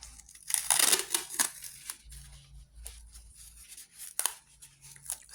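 Adhesive tape being pulled and pressed down to secure paper strips, a few close, crisp ripping and crinkling bursts separated by quiet pauses, no talk.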